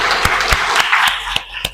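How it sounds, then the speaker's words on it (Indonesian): A classroom of pupils applauds in a brief burst of mixed clapping, with a few sharp, distinct claps standing out as it fades toward the end. "Tepuk tangan."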